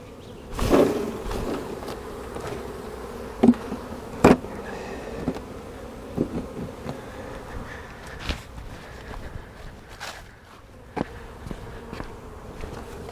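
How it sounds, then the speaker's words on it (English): Steady insect buzzing from a mass of honeybees being shaken from a hive frame, with a few soft thumps and knocks standing out above the drone. "so those are field bees, and I'm just going to shake them in here"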